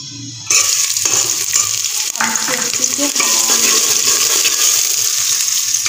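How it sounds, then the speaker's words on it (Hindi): Sliced onions hit hot ghee in a pan with a sudden loud crackling sizzle that stays bright and steady, with light stirring scrapes and clinks throughout. "तो यहाँ पे हमारा घी हो गया अच्छे से गर्म, तो अब मैं ऐड कर देती हूँ प्याज"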